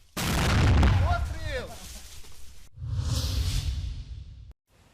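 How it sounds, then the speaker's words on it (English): Frontline combat near Kherson: heavy artillery blasts and gunfire boom loudly in two big bursts with rushing, whooshing tails, then cut off suddenly. "AFP's independent pictures show bitter fighting on one of those fronts near Kherson."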